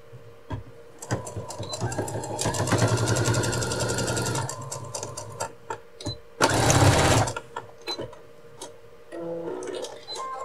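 A sewing machine runs in bursts while stitching an apron strap for a retro apron, its rapid mechanical ticking rising in two longer runs with short pauses and quieter handling between.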